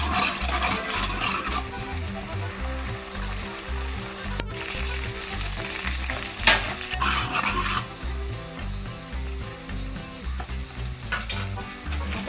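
Onions frying in oil for a coastal-style crab curry, crackling loudly while a utensil stirs and scrapes the pan in repeated strokes, with a sharp click partway through.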